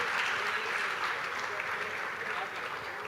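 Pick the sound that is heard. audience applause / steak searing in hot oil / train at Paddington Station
audience applause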